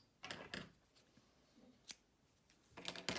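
Scissors snipping crochet yarn after finishing a round, a few quiet clicks and short snips spread out over a few seconds, close by and soft.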